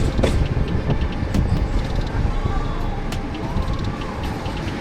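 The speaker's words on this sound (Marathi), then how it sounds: "तर ट्रेनने फायनली स्पीड पकडलेली आहे" A Mumbai local train running at speed between Nerul and Belapur CBD, with a steady loud rumble and rattle heard from inside the carriage, plus brief squeals and a voice talking over it.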